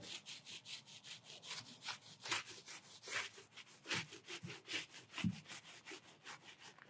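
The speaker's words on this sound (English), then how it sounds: "we're gonna just roll this material on, pressing hard on the roller to get it to go into the little nooks and crannies" A paint roller pressed hard against brick spreads mineral paint in repeated rhythmic back-and-forth strokes, a close, steady rasping scrub with no talking.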